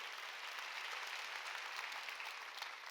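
A church congregation at a Sunday worship service claps steadily and evenly throughout, a faint, dense wash of hands heard at a distance.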